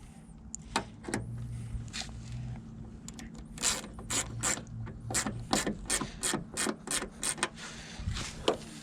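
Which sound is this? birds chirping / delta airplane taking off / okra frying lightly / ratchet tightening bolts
ratchet tightening bolts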